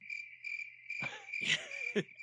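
Steady, shrill cricket chirping as a sound effect: a continuous high trill running throughout, interrupted by a few brief louder noises near the middle and end, with no voices.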